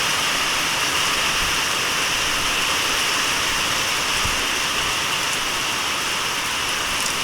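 Heavy summer rain pours down on a village in a steady, dense hiss of drops hitting surfaces. The sound is close and constant throughout, with no voices.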